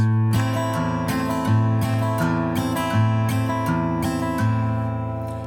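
Acoustic guitar playing the intro to the traditional song High Germany, plucked notes in a steady lilting rhythm over ringing bass strings, close and clear with no voices.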